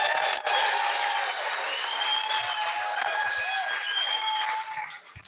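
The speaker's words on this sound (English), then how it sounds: "I think we need to put our hands together and give Darren Bergwerf, the Mayor of the People's Council" Audience applause for Mayor Darren Bergwerf at a People's Council gathering in Frankston, a steady dense wash of clapping from a crowd that holds level for several seconds, with faint voices and whistle-like tones mixed in, then tapers off at the end.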